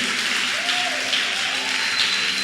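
A church congregation applauding during a sermon, steady close crowd clapping at a fairly loud level with faint voices and a brief cheer rising within it.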